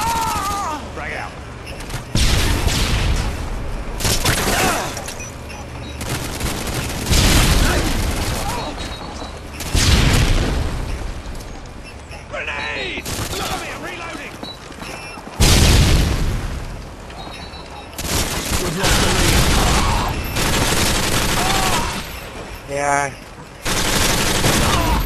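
Frag grenade explosion and heavy gunfire during a Modern Warfare 2 team deathmatch, with loud booming blasts and rapid bursts of shots recurring through the whole stretch, a voice briefly calling out over the battle.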